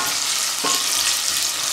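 Salted carrots sizzle steadily in a hot pan while being stirred, a dense, loud frying hiss throughout with a brief scrape of the spoon partway through.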